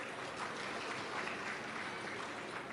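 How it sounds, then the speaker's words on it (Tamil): A crowd at a book festival claps together, a dense, even patter of applause that stays steady and fairly distant from start to finish with no voices over it. "உண்மையிலே புத்தகம் வாங்கினவங்களுக்கு ஒரு பெரிய கைத்தட்டல் கொடுங்க"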